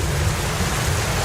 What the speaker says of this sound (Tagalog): Malakas nga yung ulan.